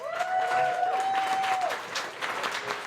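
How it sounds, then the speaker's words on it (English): An audience at a city council candidate forum applauds local firefighters, a dense, steady round of clapping with a thin whistle-like tone rising briefly over it before fading. "give them a hand of applause"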